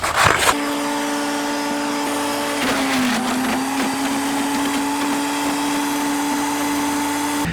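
A Greensweep shredder mulcher chewing through an egg carton, a loud, steady motor drone with a sustained whine and grinding crunches as the cardboard feeds in, close and continuous with no talking.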